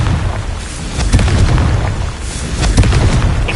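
A Confringo blasting spell bursts in the Hogwarts Legacy video game, a loud, booming explosion with rumbling low end and sharp crackling impacts that recur through the combat clip.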